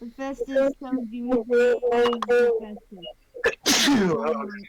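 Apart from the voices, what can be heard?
sneeze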